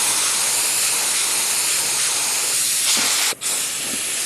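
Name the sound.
spray gun spraying Rust-Oleum paint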